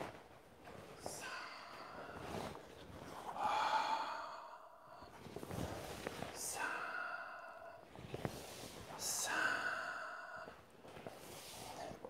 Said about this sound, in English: Deep breathing here.